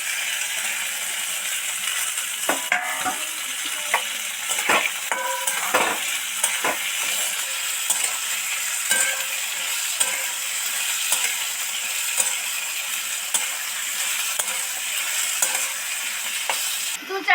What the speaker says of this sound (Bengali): মিনিটের জন্য ঢাকা দিয়ে দিচ্ছি আলুগুলো যাতে তাড়াতাড়ি ভাজা ভাজা হয়ে যায়